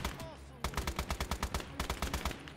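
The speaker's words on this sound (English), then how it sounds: "machine gun." A machine gun rattles in Call to Arms: Gates of Hell on the Eastern Front, firing two rapid bursts of evenly spaced, punchy shots with a brief pause between them, close and loud.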